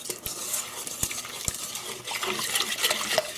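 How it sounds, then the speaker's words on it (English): A whisk stirs a flour blend and other dry ingredients for a pumpkin custard in a bowl, light scraping and swishing with a few sharp clinks of the whisk against the bowl. "So whisk this together."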